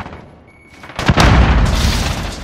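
A grenade explosion in the Modern Warfare video game: a quiet lull breaks into a sudden loud boom with a sharp crack, followed by a long rumbling roar that fades slowly.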